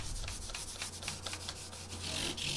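Guitar frets on a maple neck are sanded with fine-grit sandpaper: a close, steady run of rapid back-and-forth rubbing strokes without pause, and no talking.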